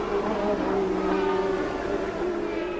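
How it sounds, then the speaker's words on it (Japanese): 1983 Formula 1 turbo race cars on a twisting street circuit, a continuous high engine drone heard from a distance, steady and unbroken throughout. "ただ前を行く2台は現在はターボエンジン。"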